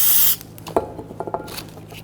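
A short, loud hiss of brake cleaner sprayed onto a rear brake assembly of a 2010-2019 Ford Taurus, followed by faint clicks and small handling noises.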